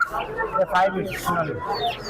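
Chickens cluck and call among bustling crowd chatter at a live poultry market in Mirpur, Dhaka, where desi, Brahma, Silkie, Polish cap and Frizzle birds are sold; the clucking is close and continuous under people talking.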